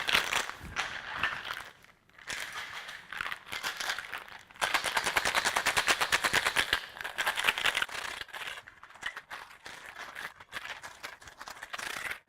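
Ice rattles hard inside a cocktail shaker, shaken vigorously in loud, rapid bursts with a short pause near the start, continuing for about twelve seconds with no talking.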